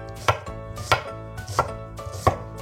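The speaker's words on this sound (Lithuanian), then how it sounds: "Svogūnus supjaustome nedideliais gabalėliais." Knife chopping onions into small pieces on a board, four distinct evenly spaced cutting knocks over a low steady hum, close and fairly quiet, no talking.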